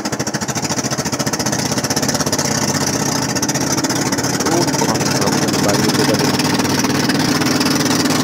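Two boat engines drone loudly and continuously aboard a fast boat heading to Marabon Island, Balabac, a rough, throbbing mechanical roar that stays steady from start to finish, close by.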